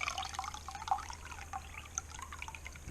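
Chicken juice poured out for homemade dog food, a faint, uneven dribble and drip of liquid with small splashes over a low background hum.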